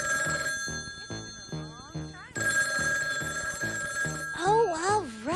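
Telephone bell ringing indoors in bursts, mixed with animated voices talking and warbling over it, the voices rising toward the end.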